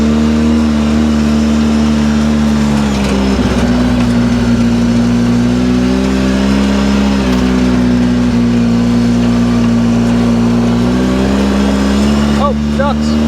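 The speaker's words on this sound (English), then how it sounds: "Rev this motor up quite a few times and warmed it up quite a few times." A Polaris RZR 800S side-by-side engine runs loud and close, holding a steady drone with several gentle rises and falls in revs and a rough patch early on, with a voice speaking briefly near the end.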